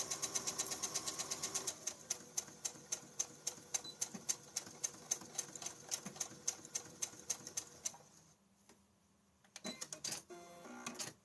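A sewing machine stitching at a fast, even rate, its needle clattering in a tight mechanical rhythm for several seconds before stopping, followed by faint handling noises.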